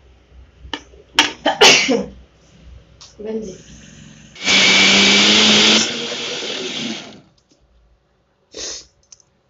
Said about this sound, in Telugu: దీన్ని ఇప్పుడు మనం మిక్సీ పడదాం కచ్చా పచ్చాగా